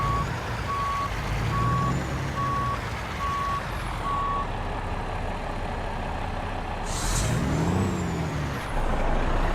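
A truck backing a trailer into a parking spot in American Truck Simulator gives a loud, evenly spaced series of reversing beeps over a steady engine rumble, followed by a hiss of air brakes.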